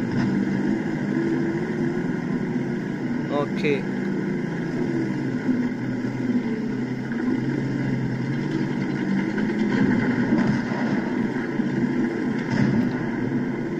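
A tank engine in World of Tanks, a T-54 mod. 1, rumbles steadily as the tank accelerates, a constant low drone throughout with a brief voice at the start.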